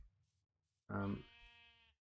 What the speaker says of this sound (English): Oh, I'm sorry, sheep.